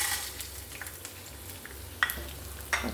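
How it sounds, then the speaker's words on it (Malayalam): Cumin, fennel, dried chillies and curry leaves frying in oil for an Onam sambar give a faint, soft sizzle, broken by a few quiet clicks of stirring in the pan. "നമുക്കതിന് എല്ലാം കൂടി ഇട്ടിട്ട് എണ്ണയിലോട്ട് ഇട്ട് ഒന്ന് വറുത്തെടുക്കാം"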